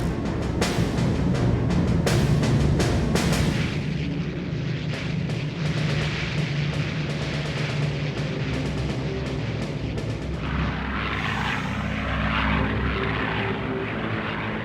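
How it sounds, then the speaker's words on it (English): Hurricane and Spitfire fighter aircraft take off in a 1940 Battle of Britain setting, propeller engines roaring loud and sustained with sharp bursts early on, then a steady drone that continues to the end. "A further 10 Hurricane and 9 Spitfire squadrons waiting at dispersal are ordered into the air."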